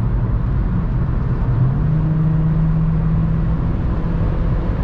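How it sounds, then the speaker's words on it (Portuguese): A Honda Civic engine accelerates along a highway, loud and steady, its drone climbing into a sustained higher pitch midway as the car speeds up, with no voices over it. "Vamos dar uns aceleros com o Civicão."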